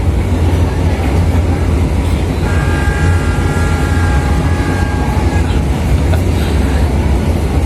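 KA Jenggala train pulling away from Tulangan station, a steady loud rumble of the moving carriages with a sustained metallic squeal partway through, continuous throughout.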